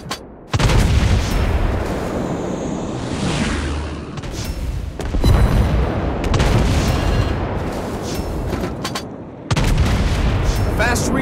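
Heavy naval cannon salvos from a Tier 8 German cruiser, the Mainz, in World of Warships Blitz, booming loudly in repeated bursts over a dense battle din, with a brief lull before the guns roar again.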